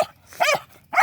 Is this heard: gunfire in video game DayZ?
no